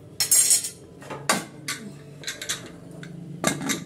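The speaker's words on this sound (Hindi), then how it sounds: "अच्छी तरह मिक्स कर लेंगे इसको" A metal spoon scrapes and clinks against a pressure cooker pot while mixing food, in short irregular bursts, close by, with quiet pauses between strokes.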